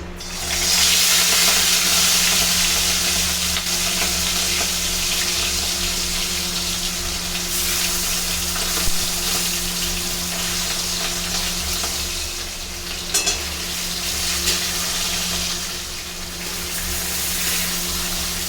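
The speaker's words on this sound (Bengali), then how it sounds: "প্রথমে না এখন মাছটাকে আগে ভেজে নেব" Fish frying in a pan gives a loud, steady sizzle and crackle that holds for the whole stretch, close up, with a low hum underneath and a few brief bumps.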